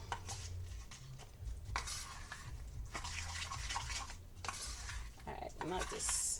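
Candied pecan topping for a sweet potato casserole being stirred and mixed in a bowl, soft scraping and clinking of a utensil running steadily close by beneath kitchen background noise.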